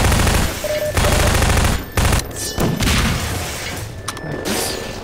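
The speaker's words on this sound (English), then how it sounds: "I also got SMG nades, so I want to use them maybe" SMG grenade launcher in a Half-Life 2: Episode 2 mod, loud bursts of fire and booming explosions close by, several sharp blasts broken by short gaps and mechanical clatter.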